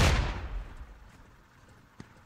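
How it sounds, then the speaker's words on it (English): Grenade explosion in the military shooter game Squad, a single deep rumbling blast at the start that fades into a low tail, with a faint sharp pop later. "those fail grenades"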